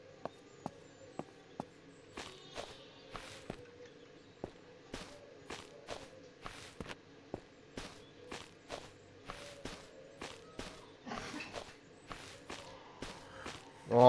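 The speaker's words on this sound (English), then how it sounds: "When you still want to hear his footsteps like that." Zombie footsteps in the survival game Surroundead, a steady run of quiet, close thuds and shuffles over a low background hum, with no talking until a sudden loud burst at the end.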